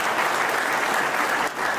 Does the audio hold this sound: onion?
no